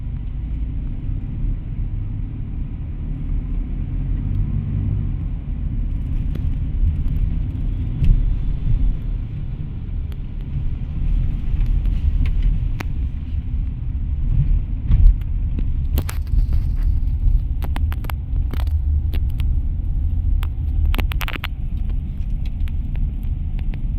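Slow city traffic on a Manila road, with a steady low rumble of idling and creeping engines close by, passing vehicles swelling now and then, and sharper clatters and bursts breaking through in the second half.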